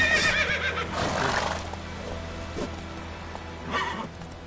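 Roach, a horse in The Witcher 3, gives several loud whinnies, one at the start, a longer one about a second in and another near the end, over faint hoofbeats and a low background hum.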